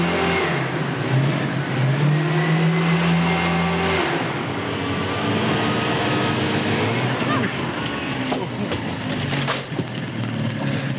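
A small lawnmower engine fitted to a scooter drones and revs continuously as it drives, loud and close, with a steady buzzing tone that shifts pitch and some clattering near the end.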